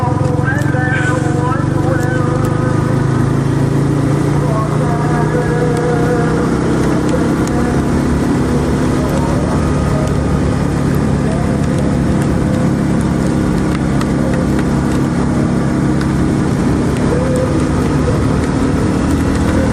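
A Suzuki motorcycle engine revs high through each gear, held near 8,000 RPM, a loud continuous drone that rises and falls under someone talking.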